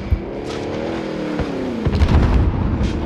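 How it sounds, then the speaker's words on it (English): Rockets fired and exploding in Call of Duty Modern Warfare, with a sustained engine-like roar building into a burst of heavy booming impacts over continuous game noise, no voices. "He's shooting rockets at me!"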